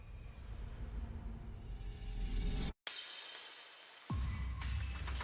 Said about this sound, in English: as the ground shatters and we start to fall